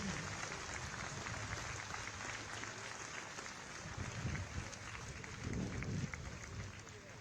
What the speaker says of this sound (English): a big round of applause for these brave paratroopers